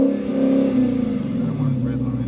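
A 2018 SRT Hellcat V8 engine revs up and settles back with a deep roar, close and loud, under nearby talk.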